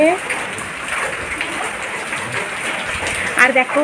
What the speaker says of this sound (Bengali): বৃষ্টি পড়ছে, মানে আজকে সারাদিনে বৃষ্টি পড়ছে